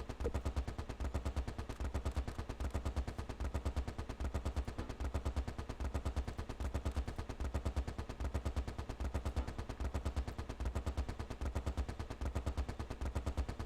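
Rapid machine-gun fire in the war video game Close Combat Last Stand Arnhem, a relentless even stream of shots hammering at a fixed cadence for the whole stretch, steady and moderately loud.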